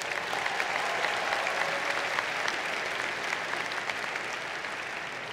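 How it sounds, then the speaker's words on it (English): An audience at a university engineering commencement ceremony breaks into sustained applause, a dense, even wash of many hands clapping that holds steady and fades slightly toward the end, with no voices over it. "How about another round of applause for Dr. Choi?"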